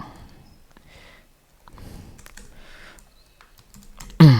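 Keys clatter on a computer keyboard in short, irregular bursts of typing, close and fairly quiet, ending with a louder burst.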